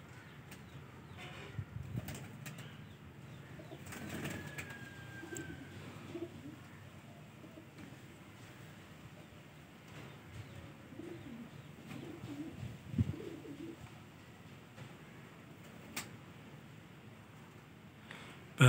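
Soft coos from high flyer pigeons in breeding season come and go outdoors, with occasional brief wing flaps, all fairly faint against quiet background noise.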